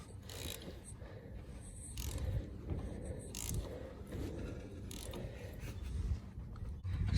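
Ratchet wrench turning a puller bolt on a Chevy OBS truck, a steady stream of low mechanical clicking and grinding at moderate level, continuous across the span with no talking.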